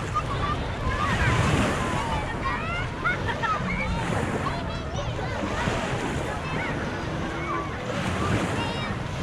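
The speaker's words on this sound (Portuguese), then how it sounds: "Essa aqui é a praia de Ponta Negra." Surf at Ponta Negra beach in Manaus, Amazonas: continuous wash of waves mixed with wind buffeting the microphone, with distant voices and faint chirps in the background.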